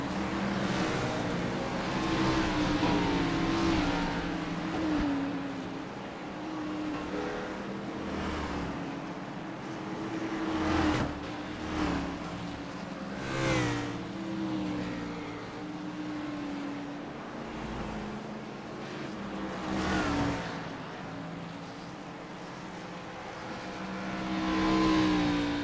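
Race cars pulling out of the pit lane one after another in a Southern Excitement Racing League event, engines rising and swelling in repeated bursts, moderately distant, with no talking.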